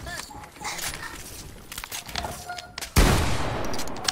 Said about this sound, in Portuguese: esse tiro foi sem querer, Rafa.